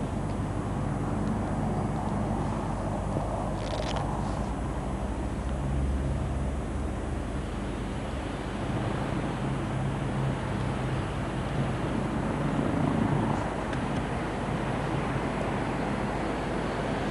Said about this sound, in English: the Comet passes over Heathrow with London in the background